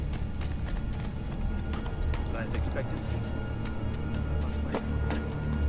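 Horse galloping in Assassin's Creed Brotherhood, a steady run of hoofbeats sitting under ongoing game noise and talking from players, moderately loud throughout.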